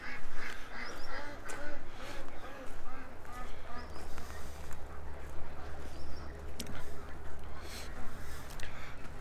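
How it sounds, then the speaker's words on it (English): Ducks quacking repeatedly on a morning outing, calls scattered throughout over a steady background rumble. "The short bus ducks, they're going right to their exit."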